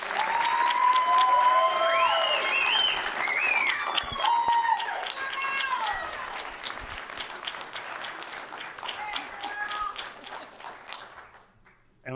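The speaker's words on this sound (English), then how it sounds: "Give her a round of applause." A Levy Court meeting audience gives a round of applause for an employee nominated for Employee of the Year, with clapping and some cheers and voices that gradually fade out.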